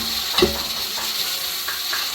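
Tomatoes being stirred into golden brown onions frying in a pan, a steady sizzle with a couple of brief utensil scrapes.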